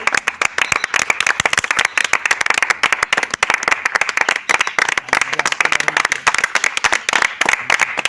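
A crowd applauds throughout at a training-centre event celebrating SSC GD selections, steady dense clapping with no pauses, loud and close.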